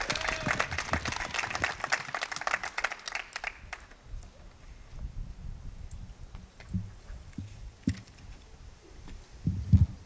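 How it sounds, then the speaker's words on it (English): Applause for the Mayor of Aurora, Richard C. Irvin, a burst of dense clapping that fades after a few seconds into scattered claps and a low murmuring crowd. "Please, another big round of applause to the Honorable Mayor, Richard C. Irvin."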